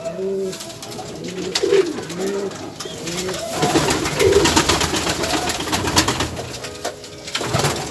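Domestic pigeons cooing up close, a repeated series of soft throaty coos rising and falling in rhythm, loud and clear over faint room noise, with no talk.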